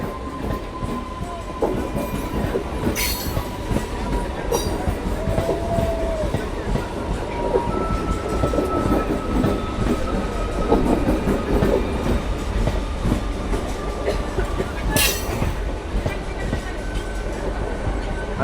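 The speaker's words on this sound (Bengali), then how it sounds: "দেখতে পাচ্ছেন এই ট্রেন প্ল্যাটফর্মে ঢুকবে" A local train rolls into a platform at Katwa station with a steady heavy rumble and rhythmic clatter, a long horn tone and occasional brake squeals over the din.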